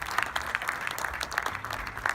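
At the end of a very long film screening at the Cannes Film Festival, an audience claps faintly and at a distance, with scattered hand claps over a quiet room rather than a full, dense ovation.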